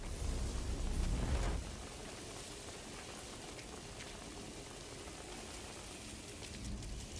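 Indoor sprinklers in a video game spray steadily like heavy rain, a dense continuous hiss and patter that swells briefly at the start then settles to an even, close wash with no voices.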